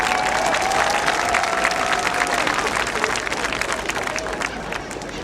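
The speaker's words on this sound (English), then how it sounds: "One more round of applause for Mrs." Sustained applause from a graduation ceremony audience honoring a community volunteer, dense clapping with some cheering and crowd murmur that gradually thins out over several seconds.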